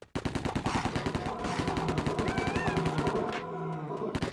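Rapid automatic gunfire from Fur Fighters: Viggo's Revenge on PS2, a loud, fast rattle of shots with a short pause partway through.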